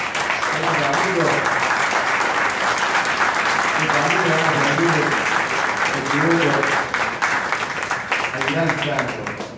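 An audience breaks into loud, sustained applause for the folk singers Los Cantores del Pueblo, dense clapping filling the space while voices of a crowd and a speaker carry over it in bursts.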